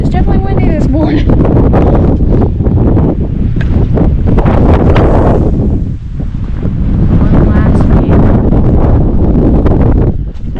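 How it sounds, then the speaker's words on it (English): Strong wind buffets the microphone on a mountain summit at sunrise, a loud, continuous roar with gusty swells throughout, and a person talks over it at times. "it's definitely windy this morning."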